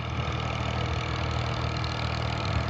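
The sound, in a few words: tractor engine approaching in a field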